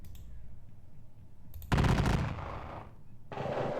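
Volleys of musket and artillery fire in a Napoleonic Peninsular War strategy game, a sharp broadband burst crashing in and then decaying, with a second burst following shortly after over quiet background.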